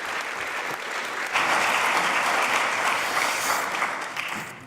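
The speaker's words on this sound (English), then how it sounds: "Please give him a round of applause." An evening lecture audience claps to welcome a speaker: applause starts moderate, swells noticeably after a second into a fuller dense patter, then tapers off toward the end.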